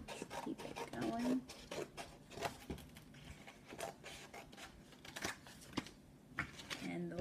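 Scissors or a blade working along the edges of a cardboard box, producing close, scratchy rasps and crunches in an uneven rhythm while a person talks quietly throughout.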